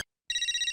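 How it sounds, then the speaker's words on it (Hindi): A telephone ring at home rings out in a bright, steady electronic warble, loud and close, starting abruptly after a brief cut-off sound and continuing alone. "विजय का फोन आ रहा है, क्या बोलूं?"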